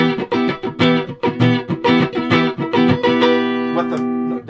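Electric guitar, a Mad Malko Swirlcaster, played through its neck pickup alone with a clean tone: a run of strummed chords in a steady rhythm, close and loud, ending on a chord left ringing.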